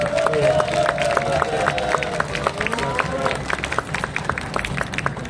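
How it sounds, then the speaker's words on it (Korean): A large audience applauds steadily, a dense patter of claps spread across the room, with some voices mixed into the crowd noise. "여러분들 박수를 부탁드리겠습니다."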